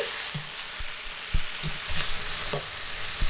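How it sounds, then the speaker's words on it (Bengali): Drumstick leaves frying in a pan over medium heat, with a steady sizzle and frequent spatula scrapes and taps as they are stirred again and again, close-up and moderately quiet, with no voices. "আবারও শাক খুব ভালোভাবে ঘন ঘন নেড়ে চেড়ে নিচ্ছি"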